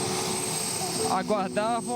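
A helicopter drones steadily through a rescue flight during the 2008 floods near Gaspar and Ilhota, its continuous rotor and engine noise sitting under people talking nearby.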